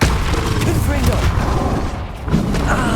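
The Confringo fire spell goes off during combat in Hogwarts Legacy, with loud explosive booms and thuds amid a dense, constant wash of game sound.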